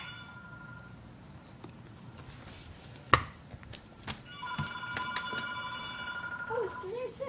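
A telephone rings in repeated electronic bursts over a background of household noise, with a sharp knock partway through and faint voices underneath.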